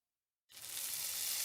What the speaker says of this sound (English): You just gotta love the sizzling sound of burgers.